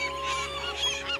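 Seagulls give a few honking, nasal cries close by, the calls overlapping briefly with no voices.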